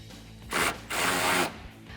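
A wrench and socket tighten a 16mm nut onto the bolt plate of a Barricade side step bar on a 2002-2008 Ram 1500. Two close ratcheting bursts sound, a short one followed by a longer one.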